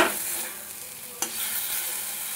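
Spice paste frying in a pan as water goes in, giving a broad, hissing sizzle with a brief stirring clack partway through, steady and close with no talk.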